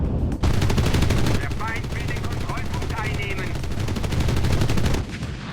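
Aircraft guns firing on a strafing run in Enlisted, from an ME410-B1 heavy bomber: a long, loud, rapid continuous burst of cannon and machine gun fire over engine drone, with a voice talking over it.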